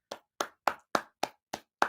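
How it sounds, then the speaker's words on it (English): A single person clapping slowly and evenly, seven crisp separate claps about a quarter second apart, close and fairly quiet with silence between each. "A round of applause."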